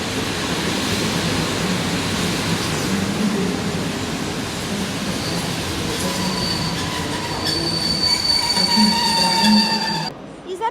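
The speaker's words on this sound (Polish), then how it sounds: "I odjeżdża pociąg Intercity 37102 Wybicki." An Intercity passenger train, hauled by electric unit ED160-029, pulls out of a station in Kraków with a dense rolling rumble of wheels on rails and high, sustained wheel squeal building toward the end.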